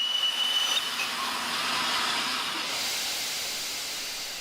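Restored Flying Scotsman steam locomotive releasing a steady, loud broadband hiss of steam that holds for several seconds with no talk, easing slightly toward the end.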